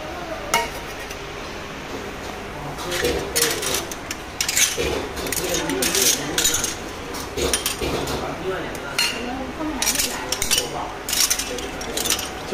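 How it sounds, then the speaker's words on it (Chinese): Bowls, plates and chopsticks clink and clatter repeatedly at a beef offal restaurant on Jiangcuo Road in Fuzhou, sharp irregular taps close by amid restaurant chatter and background voices. "专门的碗筷碟。"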